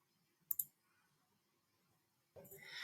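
Two quick computer mouse clicks in close succession, crisp and near in a quiet room, followed after a pause by a soft rustling burst of noise.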